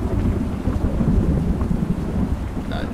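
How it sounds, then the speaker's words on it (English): A raging thunderstorm brings heavy, continuous rumbling thunder under steady rain, loud and close, with no voices. "And this storm is raging out there."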